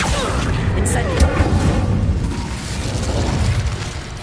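The Incendio fire spell is cast in the video game Hogwarts Legacy: a loud, close, rushing whoosh and roar of flame with a booming burst at the start, sustained for several seconds.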